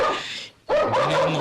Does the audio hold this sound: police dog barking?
yes